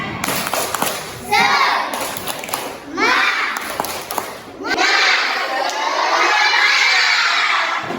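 A classroom of schoolchildren shouts a rhythmic spirit chant with bursts of clapping in short rounds, loud, close voices rising together and breaking off between phrases before a longer final cheer.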